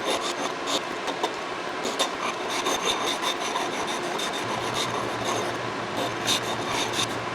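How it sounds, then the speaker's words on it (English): A piece being rubbed back and forth by hand across a belt-sander belt taped flat to a workbench, a steady gritty rasping scrape with a repeating stroke rhythm, close and loud throughout. "took a belt from a belt sander and double stick taped it to my workbench"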